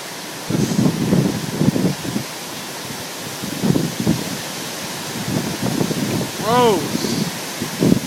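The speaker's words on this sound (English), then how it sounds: "You can hear the gust of wind." Strong gusts of wind roar during a storm in Chattanooga, Tennessee, a loud, steady rush of broadband noise buffeting the microphone, while people talk intermittently underneath.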